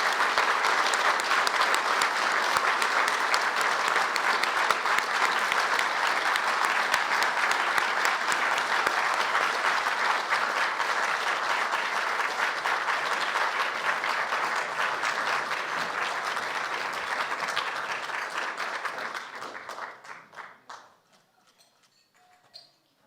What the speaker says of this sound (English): Please let's give a big round of applause to our 2022 International Aubuchon honoree, Rana Ayyub